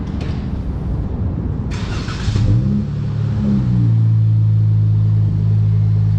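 A Dodge Charger GT AWD V6 with its rear muffler deleted cranks and fires up, the starter whir giving way to a loud, steady, deep idle rumble close by.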